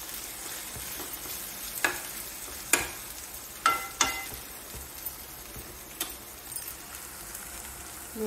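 Chicken curry masala fried in a pan under a soft steady sizzle, punctuated by several sharp spoon taps and scrapes against the pan at irregular intervals, close and moderately quiet.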